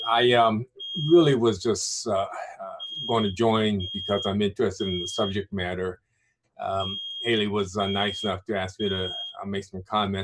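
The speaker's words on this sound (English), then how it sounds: "For some reason, the fire alarm is going off in my apartment," An apartment fire alarm gives a high, thin, steady tone in repeated bursts in the background, under someone talking nearly throughout.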